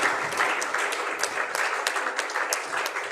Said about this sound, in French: J'aimerais qu'on puisse applaudir nos panélistes, s'il vous plaît.